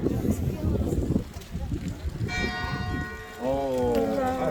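A church bell rings out in Jerusalem on a rainy day, with its sustained metallic tones rising above a dense wash of outdoor noise and murmuring voices in the second half.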